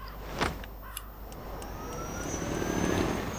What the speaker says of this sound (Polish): Salman nauczy się pilotować ten oto helikopterek